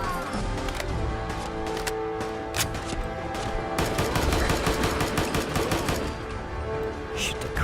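Rapid bursts of automatic gunfire in Fallout 4 during a fight with raiders, loud repeated shots with clattering transients, dense and continuous over a busy game soundscape.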